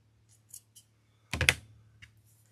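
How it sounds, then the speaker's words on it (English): Scissors snip the corner off a piece of Christmas wreath material: a few soft light clicks, then one sharp, crisp cut close by in a quiet room. "I'm going to cut this corner off"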